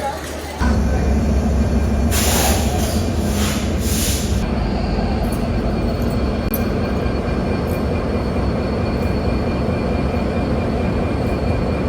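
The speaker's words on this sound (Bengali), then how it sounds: "বলতে বলতেই একটা ট্রেন চলে আসলো, কমিউটার ট্রেন" A commuter train pulls into a station with a loud, sustained rumble and roar that swells in and then holds steady, with a brief high screech of wheels or brakes early on and no voices.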